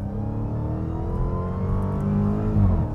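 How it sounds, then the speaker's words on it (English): A 2023 Dodge Charger Hellcat Redeye with a supercharged engine, fitted with a Jailbreak tune, revs steadily and loudly from close by, its deep droning engine note rising slightly near the end. "Like, you can still hear a supercharger and stuff"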